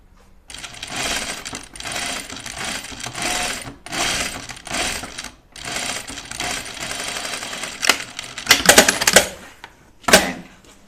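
A sewing machine stitches a seam on a wool duffle coat in several close, loud bursts of rapid mechanical whirring, with short pauses between runs and a couple of sharper clattering bursts near the end.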